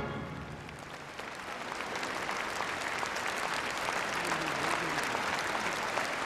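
Audience at a friendship-night performance cheers and applauds loudly and continuously, a dense, steady roar of clapping and shouting that holds its level throughout.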